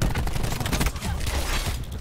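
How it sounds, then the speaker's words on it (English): A cluster grenade detonating in Call of Duty Black Ops 4 gives a loud, dense crackle of rapid overlapping blasts that fills two seconds, with a brief dip midway. "Throwing cluster grenade."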